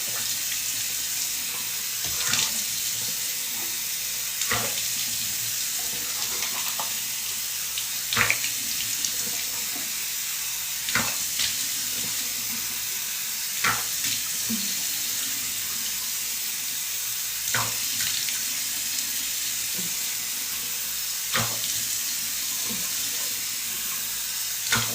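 Tap water pours steadily into a sink at home, a constant close hiss of running water broken now and then by sharp clinks and knocks of items being rinsed.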